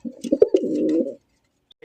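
Male pigeon calling, a single close coo lasting about a second, then quiet before another sound begins.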